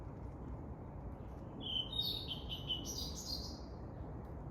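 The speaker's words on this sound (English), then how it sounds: "It's a migratory bird." A migratory bird calls in a South Korean forest in late spring, a short burst of thin, high chirps and trills at middle distance over a quiet, hissing background.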